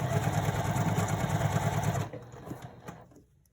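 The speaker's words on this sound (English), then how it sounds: "just continue sewing" A sewing machine stitches the zipper panel of a purse in a rapid, even buzzing run for about two seconds, then stops, leaving a few faint clicks and handling sounds before quiet.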